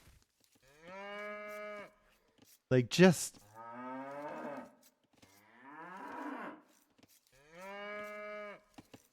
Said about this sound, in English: Do you hear that cow?